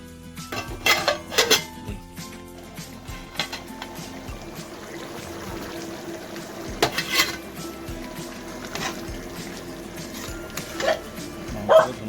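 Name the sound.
lid placed over pot of simmering chicken curry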